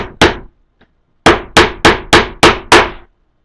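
A hammer tacks a pin down near painted trim: two quick strikes, a pause, then five evenly spaced, sharp knocks, close and fairly light, with no talk.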